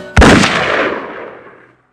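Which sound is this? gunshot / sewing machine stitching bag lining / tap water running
gunshot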